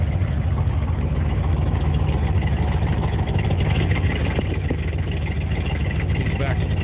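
Old Corvette engine cranked and running for one of the first times after sitting 40 years, a steady low rumbling idle filling the whole stretch, somewhat rough and distant, with faint background voices.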